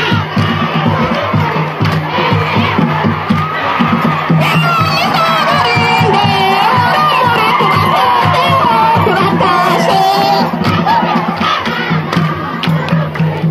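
A large crowd cheers and shouts continuously, with loud whoops and yells rising over a dense, steady roar that lasts throughout.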